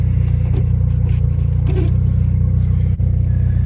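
A turbocharged Honda Civic engine idles steadily while warming up, giving a constant low, even rumble with a faint mechanical clatter on top, close by and unbroken apart from a brief dip near the end.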